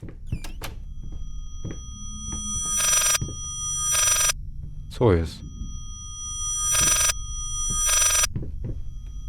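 An old-fashioned telephone bell rings in repeated bursts in the horror video game Layers of Fear, inside a large library, with someone speaking briefly between the rings.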